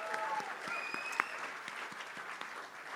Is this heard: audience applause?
yes